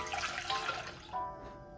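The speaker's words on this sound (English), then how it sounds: "So I am going to add 3 cups of plain white vinegar." Three cups of plain white vinegar pour into a saucepan with a soft, splashy liquid rush that fades out after about a second, fairly quiet and close, with no talk.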